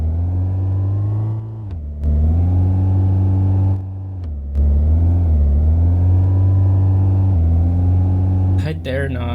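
A five-speed car's engine revs in a steady, loud, close drone, rising and falling in pitch in several long sustained stretches.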